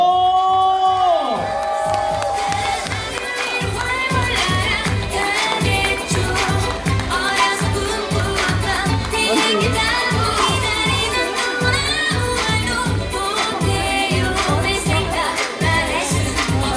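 Children and an audience cheer and shout at a kindergarten recital, a loud sustained crowd roar with whoops and rhythmic clapping after a brief opening voice.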